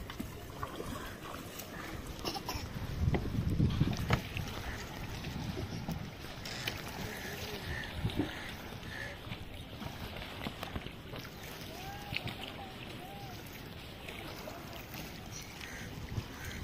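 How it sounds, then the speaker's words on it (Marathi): A small single-cylinder fibreglass fishing boat approaching at a Konkan coast fish landing, with a low engine rumble and chugging under wind and background activity, brief knocks and distant voices. "ही जोगेश्वरी नावाची होडी येते."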